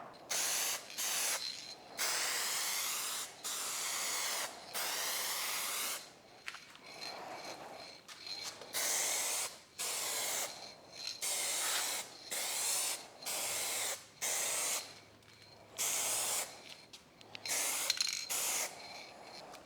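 Aerosol spray paint can hissing in repeated bursts during a car rust repair and paint blending, each spray lasting about one to two seconds with brief pauses between, close and fairly loud with no talking.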